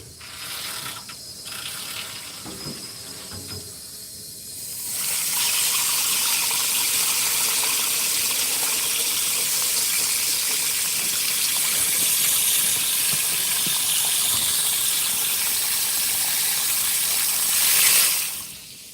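Warm tap water runs steadily into a sink, a bright continuous gush that starts after a few seconds of mechanical clicking and cuts off near the end.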